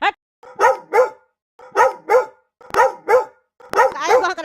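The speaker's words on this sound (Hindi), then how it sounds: "काहे भौंक रहा है तुम लोग?" Several dogs in a residential neighbourhood bark near and loud in repeated pairs of sharp woofs, four bursts separated by short pauses, ending in a rougher overlapping volley.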